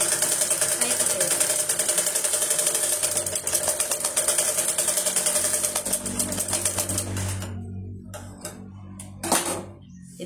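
A sewing machine top-stitches tucked fabric in a tailoring lesson, its rapid steady needle chatter running loud for about seven seconds before slowing and stopping, followed by a few faint handling sounds.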